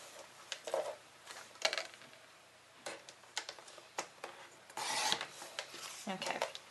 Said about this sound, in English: Maybe I will trim the top and bottom